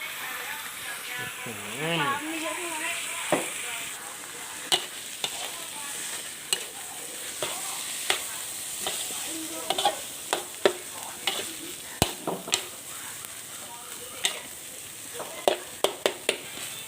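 Spicy field rat stir-fries in a hot pan with a constant sizzle, while a spatula scrapes and clacks against the metal in irregular strikes and a voice talks briefly over the cooking.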